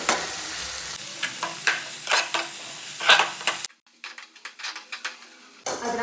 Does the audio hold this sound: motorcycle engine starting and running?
no